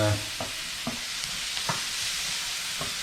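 Mushrooms browning in a pan give a steady, quiet sizzle, broken by several soft clunks of stirring spaced through the sound, with no talking.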